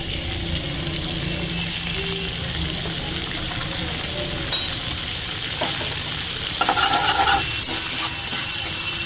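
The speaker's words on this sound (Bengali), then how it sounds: "এবার এই তেলেতে আমি একটু জিরে মেশাবো।" Cumin seeds fry in hot oil for a prawn curry, a steady close crackling sizzle with a few brief clinks, and the frying grows livelier and more spattery in the last few seconds.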